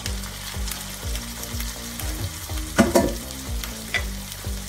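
Chickpeas stirred into toasted rice in a hot pan, a steady sizzle broken by rhythmic scraping strokes of the spoon, close and alone.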